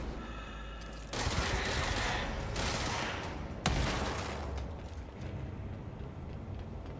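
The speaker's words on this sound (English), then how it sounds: "And explosions." A burst of loud, roaring explosions and rapid gunfire in the video game Control that swells suddenly, with a sharp crack midway, then slowly fades into rumbling.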